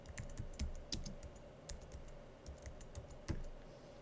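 Someone types a short search phrase on a computer keyboard, producing quick, uneven bursts of soft key clicks close to the microphone against quiet room noise.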